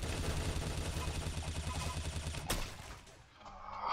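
A rhythmic burst of automatic gunfire in the Roblox game Arsenal, steady rapid shots over a low hum, ending in one sharper crack before fading into quieter game sounds.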